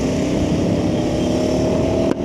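KTM 390 Adventure 350cc motorcycle, 2026 model, engine held at high revs: a loud, steady buzzing drone that holds a constant pitch, then cuts off abruptly just before the end, with no talking.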